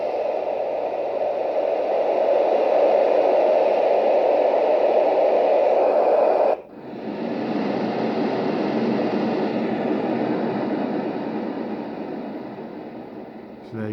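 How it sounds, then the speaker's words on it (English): Loud, steady white noise from a Dohm Uno or Rohm white noise machine hisses continuously, briefly dipping and shifting in tone partway through before carrying on unchanged to the end. "is so loud, especially on the white noise."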